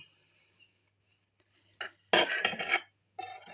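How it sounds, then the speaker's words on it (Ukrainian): After near silence, a knife scrapes and slices through homemade head cheese on a plate in a short burst of crisp scratching, followed by a quieter scrape. "Я обережно так нарізаю."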